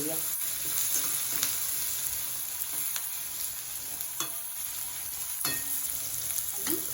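A spiced potato filling for Mumbai-style aloo bread pakoda roasts in a pan until golden, giving a steady, moderate sizzle broken by occasional sharp spatula clicks and scrapes.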